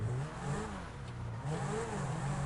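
A car engine in GTA Online revs up and down in rising and falling surges, loud and close, with a brief dip in the middle.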